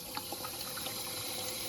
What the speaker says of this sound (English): Do you want me to turn a tap on